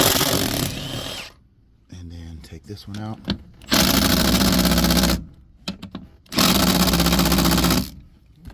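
A power drill works at bolts on a BMW X5 E70 during fuel pump replacement, three loud sustained whirring runs with someone talking in the pauses between them.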